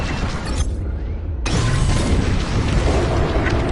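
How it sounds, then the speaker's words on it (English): Bombs detonate during a starfighter raid in Star Wars: Squadrons, a loud, continuous rumbling roar of explosions that briefly drops away before surging back even heavier. "On my mark. It's bombs away. Nice bombing."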